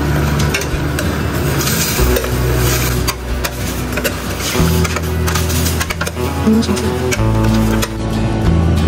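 Ingredients for tinola are stirred in a pot, giving steady scraping and sizzling with utensil clinks throughout, loud and close, with no talk.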